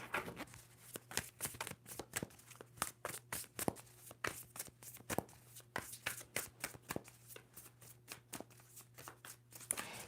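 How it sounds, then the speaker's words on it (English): A deck of tarot cards is shuffled again and again up close, a fast run of crisp riffling slaps and flutters under a steady low hum, with no talking. "Two more shuffles for Gemini."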